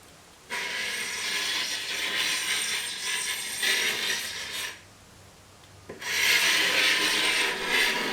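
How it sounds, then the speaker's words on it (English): A carbide scraper strips old finish from a wooden coffee table in long, rasping strokes, loud and close. The scraping pauses briefly between passes. "As you can see, the finish is no match for the scraper."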